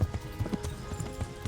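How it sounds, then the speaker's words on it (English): Horse hooves clip-clopping in a quick galloping rhythm in the video game Kingdom Come, soft and steady under a faint background hum. "I'm on a horse."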